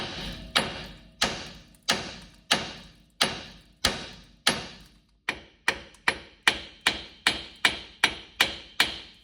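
A hammer strikes a steering knuckle on a second-generation Cummins truck: about seventeen sharp, ringing blows at a steady rhythm that quickens toward the end, close and with no voices.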